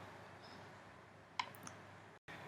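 A single sharp computer mouse click on a button, faint and isolated against quiet background hiss, followed by a couple of softer ticks while setting up a new Unity 2018 project.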